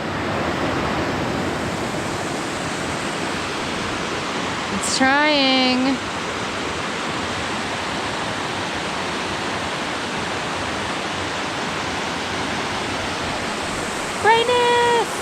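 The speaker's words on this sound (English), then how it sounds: "Look at the waterfall." A glacier-fed waterfall in rainy mountain terrain gives a constant broad roar throughout, steady and fairly near, while a voice briefly speaks twice over the rushing water.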